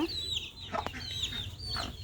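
Chicken chicks cheep in thin, high, repeated peeps over a steady low background, several overlapping calls at moderate distance with no talking.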